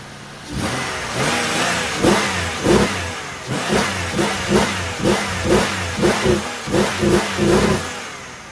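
A car engine running with a JB-welded crank pulley, after years without starting, revs up repeatedly in quick throttle blips over a steady mid-pitched idle, loud and close with no voices.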